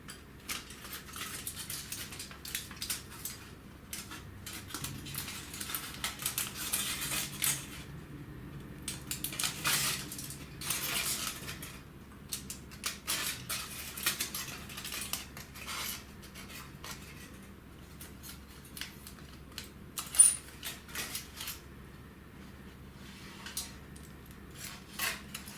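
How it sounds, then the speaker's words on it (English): Small scissors snip through thin tinfoil to cut a star shape, a run of faint, quiet crinkling and clipping sounds with short pauses between cuts. "tinfoil is really, really easy to cut through, so just be careful when you are cutting to take your time"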